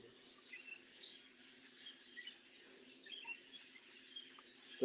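A violet pearl parakeet chirps faintly among other small birds in an aviary, with thin high twittering calls scattered continuously at a distance.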